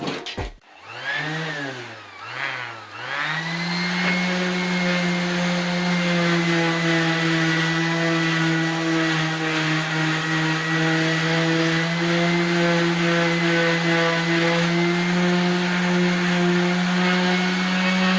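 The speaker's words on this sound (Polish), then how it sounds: "Zaczynamy pierwszy test szlifierki oscylacyjnej." A Bosch GEX 125-150 AVE orbital sander starts up, sputters briefly, then runs at a loud, steady hum with strong tonal harmonics, continuous and close with no talk.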